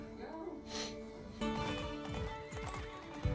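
Horse hooves clip-clop in a Bridgerton episode, a run of dull, irregular hoofbeats under music and voices, with a brief whinny partway through.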